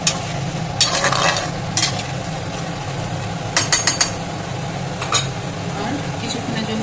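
A spoon stirs boiling potato curry in a pot after salt and sugar go in, scraping and clinking against the metal in several sharp bursts over a steady bubbling simmer, close and moderately loud.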